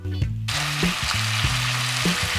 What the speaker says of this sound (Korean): 국물이 조금 남으면 국물이 거의 사라질 때까지 타지 않게 계속 뒤집어 줍니다